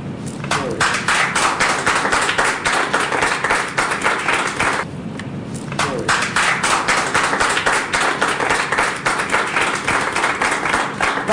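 A studio audience at a televised debate on femicide and gender violence claps loudly and steadily, dense close applause with a brief dip midway before resuming at full strength.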